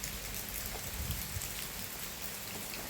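Light rain falls steadily, a soft, even hiss of drops on surfaces that stays faint and unbroken throughout.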